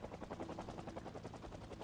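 A helicopter passes overhead in the Project Zomboid video game, a steady, fast rhythmic rotor chop that stays loud and close throughout with no talking.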